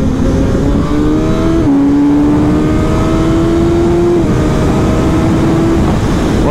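A Suzuki GSX-S 1000 World Edition motorcycle engine runs loud and close, its pitch stepping through several gear changes with brief dips between sustained revving, alone without voices.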